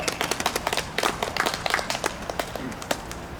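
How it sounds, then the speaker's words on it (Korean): A small congregation at a church prayer meeting claps in a quick, uneven patter of applause that continues for a few seconds. "감사의 박수를 전해드립니다"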